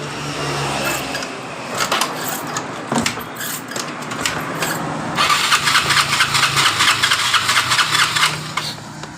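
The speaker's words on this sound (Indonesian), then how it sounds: "Coba kita engkol." A Yamaha Mio Sporty motorcycle with a no-start fault is cranked with its kick starter, a few dull mechanical strokes giving way to a rough, sputtering engine burst that builds louder near the end, with no talk.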